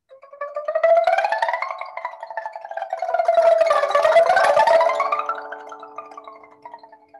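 Plucked pipa strings slide and bend in rising and falling glides, producing a wavering, wind-like whistle that swells and fades over several seconds.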